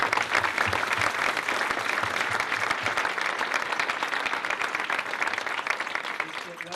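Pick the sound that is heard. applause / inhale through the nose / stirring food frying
applause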